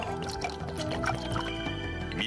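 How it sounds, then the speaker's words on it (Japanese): Water from the Shirakawa spring in Kumamoto drips and trickles steadily, blended with a continuous musical backing throughout. "うまか水の音がしと"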